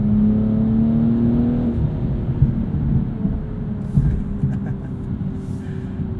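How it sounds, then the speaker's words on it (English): A 2022 BMW M240i xDrive coupe's 3-liter inline-6 pulls steadily under acceleration, a smooth, continuous engine drone with a rising tone heard from inside the cabin, plus a few faint bumps and rattles. "Very smooth, very linear power band with this 3-liter inline-6."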